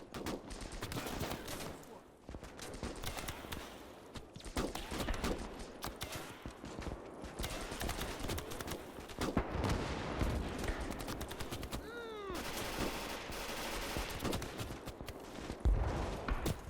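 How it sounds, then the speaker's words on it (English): Close-quarters battle in Gates of Hell at Stalingrad: rapid rifle and machine-gun fire crackles continuously, with bullets whining past and cracking into brick and metal, loud and dense throughout. "bullets are just whining past. Like, I love the sound of those bullets hitting the brick."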